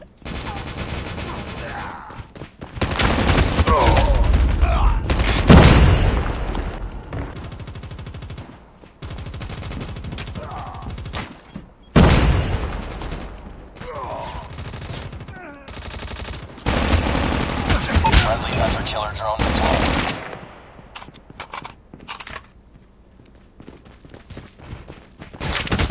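Bursts of automatic gunfire and rapid shooting from a Call of Duty Mobile match, loud and repeated in clusters with short pauses, mixed with game effects.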